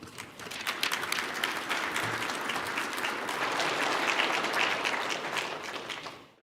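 An audience at a technology talk breaks into sustained applause to welcome a speaker, dense clapping from many hands that swells, holds steady for several seconds, then cuts off.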